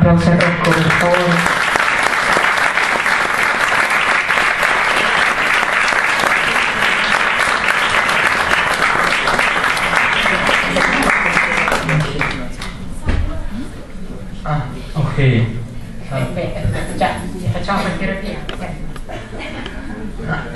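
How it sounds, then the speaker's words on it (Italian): A hotel conference audience in Bari applauds for Rocco, a long, loud, sustained burst of clapping that fades after about twelve seconds into scattered claps and murmuring voices. "Un applauso a Rocco, per favore."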